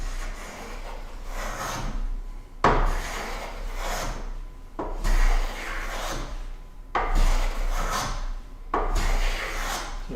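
A hand plane takes long shavings off a wood board on a workbench, five rasping strokes about two seconds apart, each a close, loud scraping swish with short gaps between.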